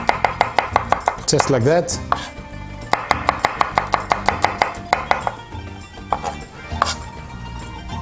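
A knife chops vegetables finely on a board for Greek spetsofai in a quick, even run of sharp close taps, pausing briefly, then resuming at a steady rhythm, with someone speaking briefly over it.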